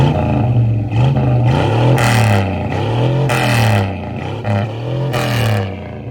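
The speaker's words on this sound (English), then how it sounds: "It's idled up like 300 RPM right then." A GM V8 car engine idles with its idle raised about 300 RPM, giving a steady, loud, close throbbing rumble with a faintly lumpy rhythm and periodic swells of mechanical clatter.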